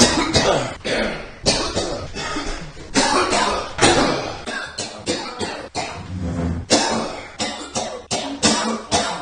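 Repeated coughing fills the stretch on a game show set, many short harsh bursts from a few people in quick succession, some overlapping, with brief gaps between fits.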